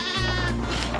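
Goats bleat loudly and close up, one long continuous wavering cry on a farm, with no talk over it.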